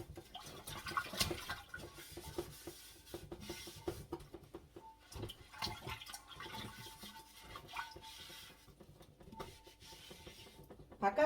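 A large earthenware jar is scrubbed with a scouring pad under a running tap, giving a soft, uneven mix of splashing water and rubbing scrapes with irregular bursts throughout, with no voices.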